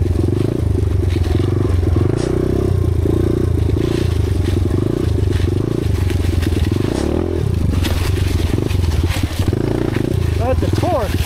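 An enduro motorcycle engine drones loudly and continuously while riding on trails around Chiang Mai, with rhythmic throttle pulses and rattling over rough ground, and someone talks over the engine throughout.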